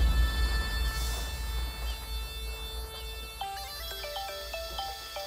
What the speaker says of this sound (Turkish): Türkan Hanım arıyor